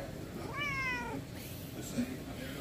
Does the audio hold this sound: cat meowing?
yes